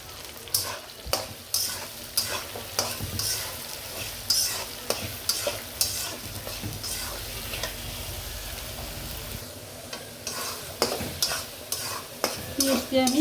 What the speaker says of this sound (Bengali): পেঁয়াজটি আমি লাল লাল করে ভাজবো